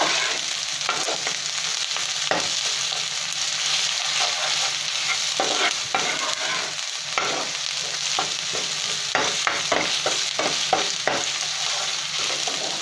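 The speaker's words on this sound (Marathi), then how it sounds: "ही व्यवस्थित छान कांदा परतून घ्यायचा आहे" Chopped onion sizzles and sputters in a hot pan for a prawn curry, a steady close frying hiss broken by frequent stirring scrapes and small pops.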